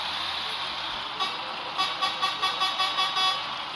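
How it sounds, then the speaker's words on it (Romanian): Truck horn honking in the Truck Simulator video game, a short series of repeated toots over steady engine and road noise, fairly close and clear. "când vine la poartă claxonează"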